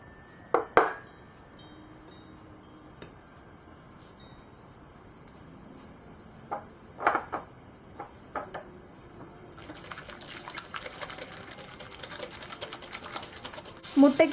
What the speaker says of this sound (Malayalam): ആദ്യം 1 മുട്ട ചേർത്ത് ഒന്ന് ബീറ്റ് ചെയ്തെടുക്കാം.